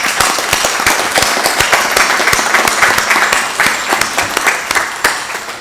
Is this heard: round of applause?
yes